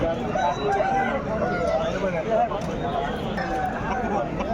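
Roosters at a busy Pileru poultry market crow amid dense crowd babble, their calls blending into a continuous loud din with people talking throughout.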